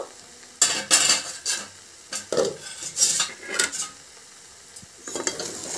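A spoon stirs tomato chicken rice in a cooking pot, scraping the metal in several distinct bursts with short pauses between strokes, close and fairly loud, with a faint sizzle underneath.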